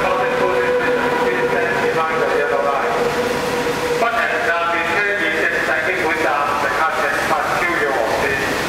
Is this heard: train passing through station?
yes